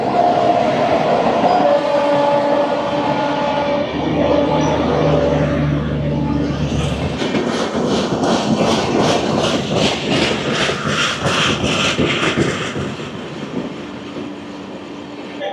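The Paharia Express pulls into Howrah Junction running late, starting with sustained tonal horn and brake sounds, then a loud rhythmic clickety-clack of wheels over rail joints that fades slightly near the end.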